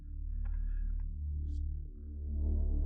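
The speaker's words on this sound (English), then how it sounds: "this is kind of borrowing this drone type element, which you really hear a lot in ominous tension cues" A dark, ominous drone-type synth pad from Omnisphere sustains low and steady with faint shimmering tones drifting above, a quiet tension-cue texture playing alone.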